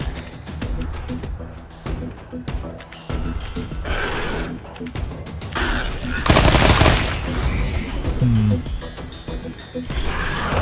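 Dense bursts of automatic gunfire and explosive impacts in the video game Wasteland 3, loud and continuous with a heavy crashing burst midway, while someone talks over the combat.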